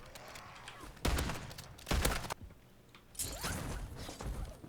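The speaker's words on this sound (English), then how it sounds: "This fucking shotgun sucks too." Shotgun fire in Call of Duty zombies mode, several loud booming blasts spaced about a second apart, with whooshes and game mechanism noise in between.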